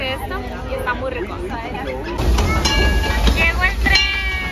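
A Disneyland Railroad train pulls into its station, a loud rumbling rolling mass with metallic clatter and squeals swelling partway through, heard over steady crowd chatter and nearby voices talking.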